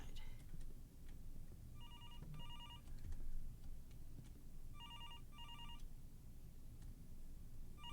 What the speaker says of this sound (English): Oh, that's the phone?